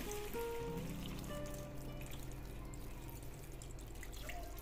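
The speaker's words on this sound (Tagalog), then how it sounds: "maglalagay ako ng tubig" Water is poured into a cooking mixture of soaked cranberries and raisins, a soft, steady trickle and gurgle against a low background hum, with no talk.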